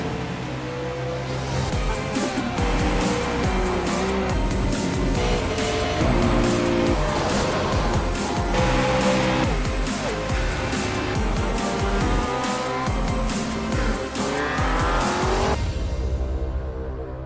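Race cars lap the Nürburgring during a 24-hour endurance race in the iRacing sim racing game, with continuous loud engine drone and gear shifts throughout and no talk, fading out at the end.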